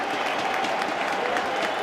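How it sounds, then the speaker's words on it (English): Ironic cheering and applause from a football crowd at Olympic Park during an A-League match between Melbourne Victory and Newcastle Jets, a dense, steady roar of voices and clapping filling the stadium without a break. "ironic cheers from the crowd"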